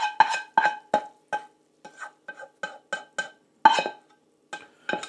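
A spoon scrapes and clatters in a pan of shrimp in cilantro lime cream sauce, making a series of short, close, irregular stirring knocks with brief pauses between them.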